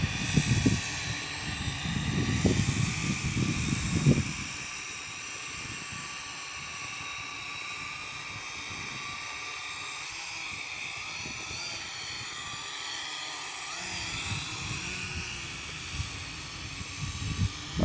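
A R'BIRD DMS240 Black Master drone flies on its maiden flight, giving a steady high-pitched multi-rotor whine that holds throughout, with heavier handling bumps and rustles near the start.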